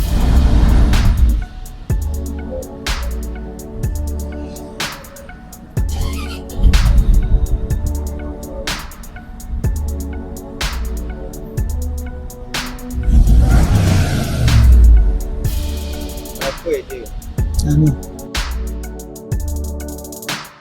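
A Range Rover Sport converted to run on CNG gas, its engine heard up close in repeated revving bursts that rise and fall over a steady running base, with sharp clicks and rattles between the surges.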